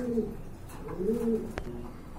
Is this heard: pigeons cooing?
yes